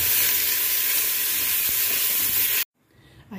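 Three hundred grams of bacon fry in a drizzle of olive oil, making a loud, dense, continuous sizzle that suddenly cuts off near the end.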